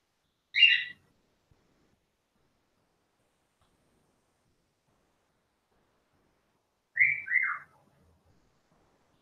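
Two short, bright whistles from a pet bird, well apart, the second a rising-then-falling wolf-whistle pattern, with silence between them.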